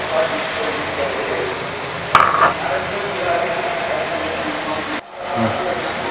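200 grams of small shrimp fry in a pan for a long-bean stir-fry, giving a steady close sizzle with a sharp clatter as they are stirred partway through and a brief dip near the end.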